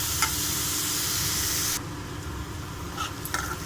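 Paneer frying in a pan until golden, a loud, even sizzle that suddenly drops to a softer hiss partway through, with a few faint clinks near the end and no talk.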